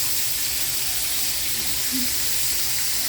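A kitchen tap runs while washing up, giving a steady, loud rushing hiss of water that continues evenly throughout with no pauses.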